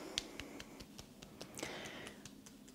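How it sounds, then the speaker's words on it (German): Someone slowly pats their own left arm with the hand: soft, faint, evenly spaced light taps about every quarter second in a quiet room, with no talking. "Du klopfst deinen linken Arm langsam aus."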